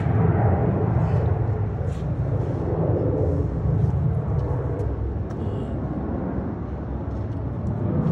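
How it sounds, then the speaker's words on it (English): Airplane passing overhead during a flyover at a Pearl Harbor remembrance: a broad, steady low roar of engine noise holds for eight seconds, fairly loud, with faint crowd sounds around it. "It's just another plane coming over."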